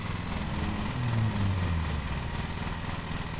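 Ride-on lawn mower engine in the video game Lawn Mowing Simulator: a steady, close motor hum with a low tone that bends downward as the mower engages, running alone without talk.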